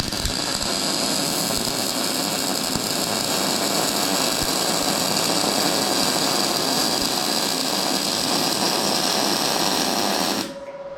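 An R-Tech 180 or 250 amp portable inverter MIG welder laying a bead with the wire and voltage turned down to about half, giving a steady close crackling buzz for about ten seconds before it cuts off.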